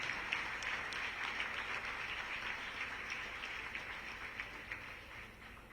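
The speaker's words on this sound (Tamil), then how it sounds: "ஜோரா கைத்தட்டலாமா வந்தவங்கள." Audience at a DMK public event in Tamil Nadu claps for arriving guests, a fairly distant, steady patter of many hands that sounds soft and even throughout.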